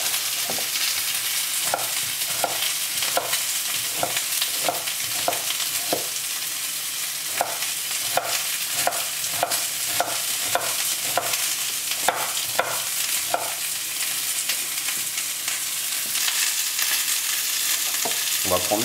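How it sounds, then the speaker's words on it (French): Pieces browning in a hot pan, a loud continuous sizzle with a quick series of spatula scrapes and turns, close and steady with no talking. "on essaie de les faire revenir sur toutes les faces"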